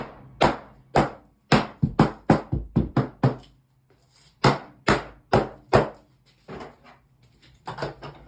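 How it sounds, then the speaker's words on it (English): Rubber mallet tapping a pool cartridge filter housing, a run of loud, close, dull knocks in quick bursts with short pauses between groups, alone without talk. "I'm going to take my rubber mallet."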